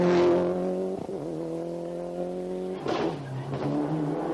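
A Toyota rally car on a stage of the 1995 Ulster Rally, its engine droning steadily with pitch shifts as it changes gear, then revving hard again, loud and close with no talking.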